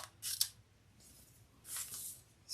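Scissors snip through leather while cutting it into credit card slots for a compact clutch wallet, giving two crisp, close cuts separated by a short pause.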